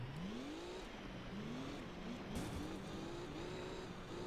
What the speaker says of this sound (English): we have more power in our rally car